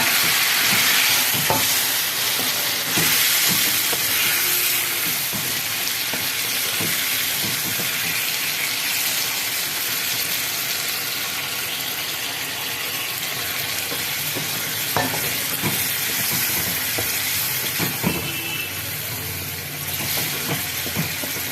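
Whole-garlic chicken sizzling steadily in a pan after a splash of water, a continuous loud hiss and steam with occasional scraping stirs, no voices.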